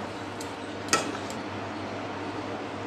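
Chicken curry with blended spices being stirred and fried in a pot, with a steady low sizzle throughout and a single sharp metallic clink of a utensil against the pot near the start, plus a couple of fainter taps.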